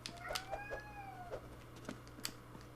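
A cat meows a few times, faint and somewhat distant, its rising-falling calls sitting over a steady low hum with a couple of small clicks.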